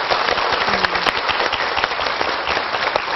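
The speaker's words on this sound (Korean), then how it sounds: "오늘 이렇게 멋진 또 공연을 펼쳐주신 이지은 씨에게 여러분 큰 박수 전해주시고요" A concert audience applauds after a televised classical vocal performance, a dense and steady wash of clapping from many hands that continues throughout at even loudness.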